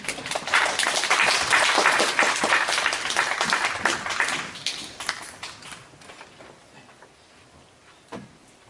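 An audience at a Korean tourism business briefing claps to welcome a guesthouse owner to the stage, loud sustained applause that gradually thins out and fades, with a few scattered claps near the end.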